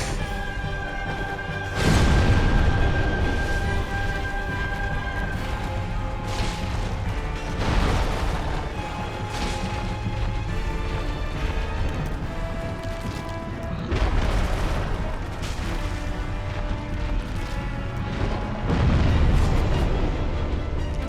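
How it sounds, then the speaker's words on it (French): Repeated explosions in the Dark Souls Remastered video game, several loud booming bursts spaced a few seconds apart over a continuous rumbling game soundscape, with no talk. "Mais c'est vrai que ça explose à chaque coup."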